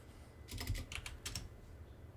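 Quick bursts of typing on a touchy computer keyboard while entering dimensions in SolidWorks CAD, a few clustered keystrokes, close and clear over quiet room hiss.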